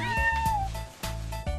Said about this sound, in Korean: 은하수 같은 눈동자가 매력적인 고양이 백호입니다.